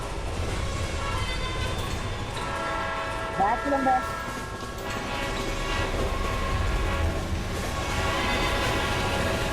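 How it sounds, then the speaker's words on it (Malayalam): A train rumbles through a tunnel in the Roblox video game, with a horn sounding midway over a steady loud roar, while a person talks briefly. "ഇപ്പൊ ട്രെയിൻ ഇടിക്കും."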